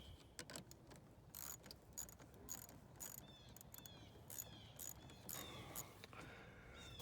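A ratchet with a 12 mm socket tightens bolts on an aFe cold air intake, giving quiet, close, irregular clicking bursts in a hushed garage setting.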